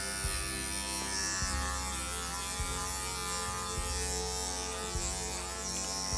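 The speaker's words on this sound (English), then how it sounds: "we're gonna go in with a 10 blade and we're gonna shave out this whole inner groin area" Electric dog clippers fitted with a 10 blade buzz steadily and close while shaving a dog's inner groin during a field trim grooming, a constant motor hum with faint changes in load and no talk.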